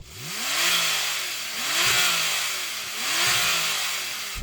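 Three rising rev sweeps from a 991-generation Porsche 911 Turbo, each climbing and falling back as the soft limiter cuts in, loud and near with a steady rushing roar throughout.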